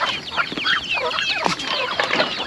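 Chickens cluck close by on a farm, with a busy overlapping stream of short clucks and squawks from several birds. No voices are heard.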